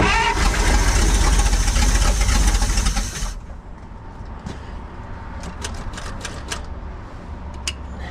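A 1948 Pontiac straight-eight engine runs loud and rough, then drops to a quieter steady idle with a few light clicks and taps over it.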